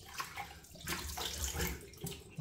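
Cold water splashing and running while a face is rinsed at a sink, a close, soft rush with irregular swells and splashes and no talking.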